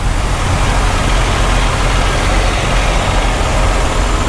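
Big trucks idle at the Iowa 80 truck stop at night, a loud, steady low diesel rumble with no breaks and no voices.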